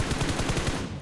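Automatic rifle fire in a PUBG Mobile match rattles off in a fast, even burst of roughly eight shots, sounding close and steady for about a second before stopping.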